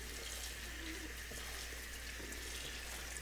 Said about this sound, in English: we're going to run some cool water over them